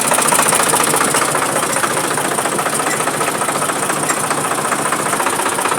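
A tractor engine runs for a hay baler, a loud, steady, knocking diesel rumble that holds at an even pitch throughout without letup.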